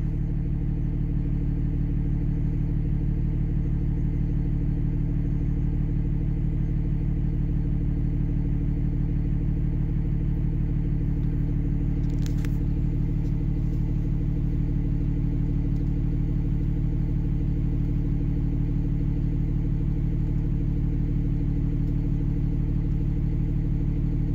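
A diesel engine fitted with a Banshee VGT controller runs steadily after a cold start, a continuous loud idle with a strong low rumble and no talking.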